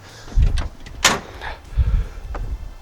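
A car door being shut after its locks were lubricated, with a couple of low thuds and a sharp latch click between them, close and fairly loud, followed by quieter handling noises.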